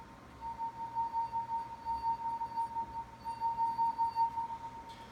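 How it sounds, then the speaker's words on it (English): A wet finger circling the rim of a drinking glass makes it sing with a steady, pure ringing tone that holds for about five seconds, swelling and dipping slightly in loudness, fairly faint over a soft background hiss. "This action causes the glass to vibrate."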